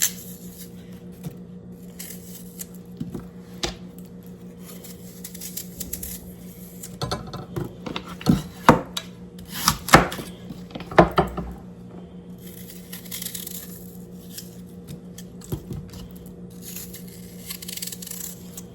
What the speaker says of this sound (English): And next we need to cut these in 1/2-inch slices.